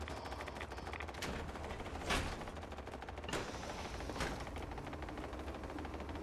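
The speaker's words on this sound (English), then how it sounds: "Just everywhere I go, there's turret sounds." Turret gunfire in the Fallout 76 video game: several bursts of rapid shots around two, three and four seconds in, over a steady background of game ambience, moderately loud with no talking.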